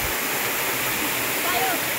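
The Caripina waterfall in Felipe Guerra, Rio Grande do Norte, gives a steady, dense rush of falling water, close and constant for two seconds with no break.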